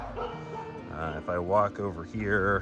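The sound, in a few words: dog barking at campsite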